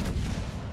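Enemy ship guns firing in a naval battle game, a dense, booming low rumble of cannon fire that carries loud and steady through the whole short moment with no voices.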